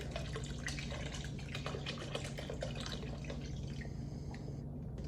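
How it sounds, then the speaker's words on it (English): Water is poured into a pot of taco soup with a soft, steady trickle and splashing throughout, a continuous quiet liquid sound with no talking. "We're gonna add some water."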